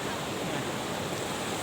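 Steady broadband wash of water surging in, like waves rolling over a shore, filling the brief moment with a continuous close rushing hiss and no clear breaks.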